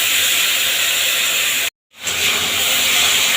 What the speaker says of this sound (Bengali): আর এই যে পেস্টটা রেখেছিলাম টমেটো আদা লঙ্কা হলুদ লবণের এটা এখন তেলের ওপরে দিয়ে দেবো